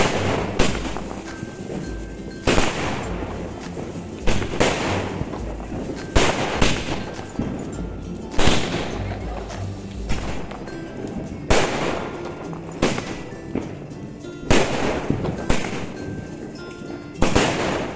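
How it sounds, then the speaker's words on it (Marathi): Loud firecrackers burst one after another at irregular intervals during Lakshmi Puja celebrations, each sharp crack followed by crackling and echo, with no voices. "मस्तपैकी त्या अभिषेकनीचे ते लावून घेतलं फटाक्या वगैरे अशा."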